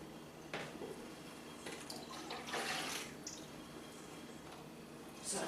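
Fruity home brew made with cherries, plums and strawberries pours into a jug, giving soft, fairly quiet splashing and trickling with brief drips and a louder gush near the end.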